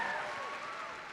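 A convention audience at a Star Wars Clone Wars panel cheering and applauding, a brief dense wash of clapping heard at a moderate distance.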